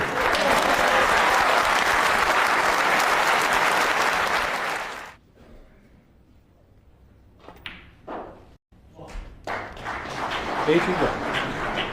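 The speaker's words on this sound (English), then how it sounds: "there'll be a big round of applause if this drops in" Loud, sustained applause from a snooker crowd at the World Championship fills the first few seconds, then cuts to a quieter hall with sharp clacks of snooker balls and a commentator talking.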